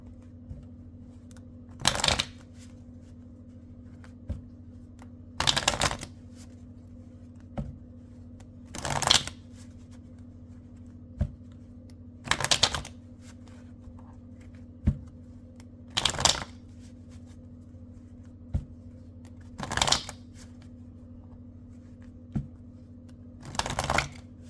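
A deck of tarot cards is shuffled again and again, each burst a short crisp riffle set against a low steady hum, recurring every few seconds with quiet gaps between.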